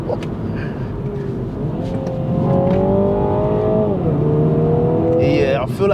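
A Mini Cooper JCW accelerates hard, its engine note climbing in rising harmonic sweeps through the gears, loud and close from inside the cabin.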